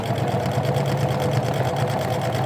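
Sewing machine running a short backstitch on a basic skirt seam near the back slit, a fast, even, close mechanical whir throughout with no talk.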